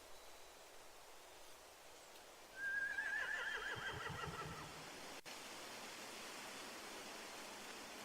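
Horses neigh in The Walking Dead video game: a single loud, wavering whinny rises and trembles for about two seconds over a steady rushing background, with low snorting beneath.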